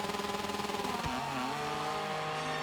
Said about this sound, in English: Rev up the bike and get ready for the green.